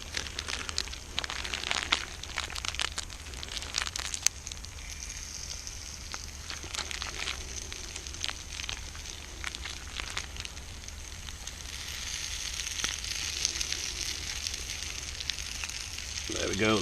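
Cornbread bannock batter sizzles and crackles in a small backpacking pan over a camp stove, a steady frying hiss with irregular pops and crinkles throughout.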